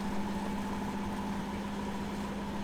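A steady, droning boat engine rumble with a constant low hum, heard from the back of the boat, even and unbroken, close by with no voices.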